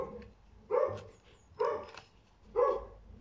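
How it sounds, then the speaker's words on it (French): Dogs barking indoors in three separate bursts about a second apart, each a short cluster of sharp barks, moderately loud and slightly distant, with quiet room tone between them. "Désolée pour les chiens, mais je ne peux pas leur mettre une muselière."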